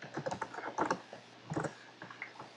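Quick bursts of typing on a laptop keyboard, clustered keystrokes tapping in a password, close and fairly quiet, with short pauses between groups of clicks.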